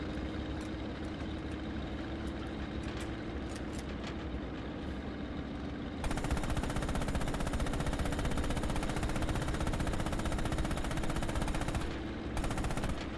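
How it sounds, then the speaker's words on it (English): Hull-mounted machine gun on a tank in Red Orchestra 2: Heroes of Stalingrad rattles off long continuous bursts over a steady engine rumble, growing louder and denser partway through, with a brief pause near the end. "Use the hull MG and open fire on the targets."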